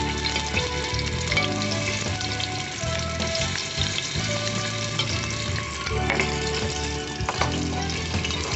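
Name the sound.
ground spice paste frying in hot oil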